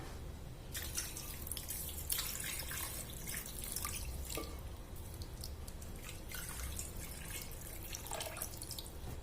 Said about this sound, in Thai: จะตามด้วยตัวน้ำนะคะ